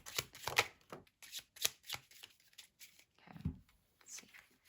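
Tarot cards being shuffled in quick bursts of riffling and flicking, close and fairly quiet, with short pauses between handfuls.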